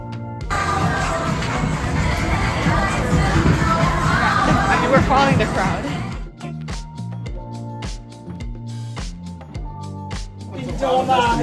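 A street crowd at a disability rights protest in South Korea, dense shouting and babble for about six seconds, then giving way to rhythmic drumming and chanting with sharp percussive hits.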